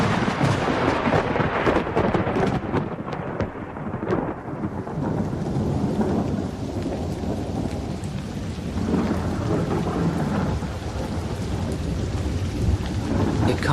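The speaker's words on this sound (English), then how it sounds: "It'll rain forever and ever." Heavy rain pours steadily in a thunderstorm while deep thunder rolls and crackles, loud and close at first, then settling into a dense, continuous downpour with no voices.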